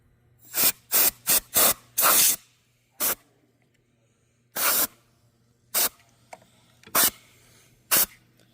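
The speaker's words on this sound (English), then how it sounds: "I'm just going to spray it with an air can for that stuff" Short bursts from a compressed air can spraying a Soundcraft MH4 audio console to clean its gain pots, several quick hisses in a row followed by a few spaced-out blasts, close and loud against a quiet background.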